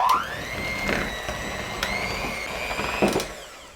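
Electric hand mixer whirring steadily as it creams icing sugar with vanilla for a peanut butter chocolate pie filling, a continuous motor drone with small pitch shifts and a few brief bumps against the bowl.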